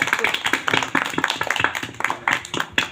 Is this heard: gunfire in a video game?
no